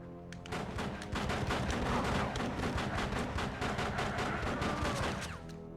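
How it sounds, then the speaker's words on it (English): Dense, continuous gunfire in Die Hard: Vendetta on Xbox, with rapid repeated shots forming a sustained loud fusillade that tails off at the end, with no talking. "Who the fuck is shooting me?"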